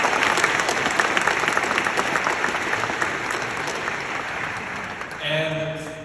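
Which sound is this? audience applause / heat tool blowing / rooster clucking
audience applause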